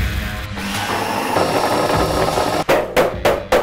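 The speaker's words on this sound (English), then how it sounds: "So we milled, we mashed, we're milling, we're mashing." A grain mill crushes malt for a high-strength Belgian quad beer with a loud, continuous grinding rumble, then breaks into several short bursts near the end, close with no talking.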